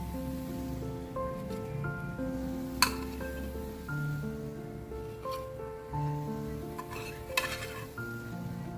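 Colocasia leaf rolls (alu vadi) frying in a pan of oil give a steady, soft sizzle, overlaid with a few sharp utensil clinks and stirring scrapes. There is no talk.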